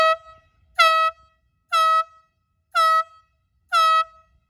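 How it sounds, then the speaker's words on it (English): A boat horn sounds a series of short, evenly spaced, piercing blasts, loud and close with quiet pauses between, the first one faint and clipped. "your 5 short blasts sounds like this"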